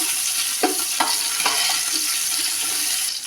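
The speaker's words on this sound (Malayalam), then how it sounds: "അത് നല്ലോണം ഒന്ന് മൂക്കട്ടെ കേട്ടോ" Cumin, black cumin and whole spices fry in oil for squid biryani, a constant close sizzle broken by a few sharp pops and stirring bursts in the first half, with no talking.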